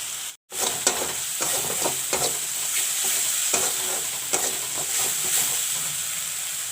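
Masala fries in a pan with a steady sizzle and hiss while a utensil stirs it, scraping and clinking against the pan at irregular intervals.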